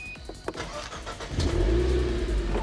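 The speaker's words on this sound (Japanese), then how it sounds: "エンジンスタートです。" A Renault Lutecia Renault Sport chassis cup, 1.6-litre turbo, cranks briefly from its card key and catches, then settles into a deep, steady rumbling idle.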